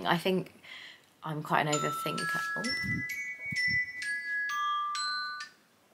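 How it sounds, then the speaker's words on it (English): Phone alarm chime reminder: a bright, repeating sequence of high electronic tones ringing for several seconds, moderately loud and close, following a woman's speech and a short exclamation. "That is my alarm to go and make coffee."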